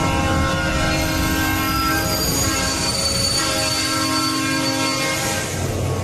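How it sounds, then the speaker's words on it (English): A themed subway car effect in an amusement ride queue rushes in, a loud continuous metallic roar with sustained wheel-squeal tones and horn-like pitches, close and unbroken for several seconds. "the queue has a jump scare where out of nowhere it looks as if an errant subway car is going to run into the people in line."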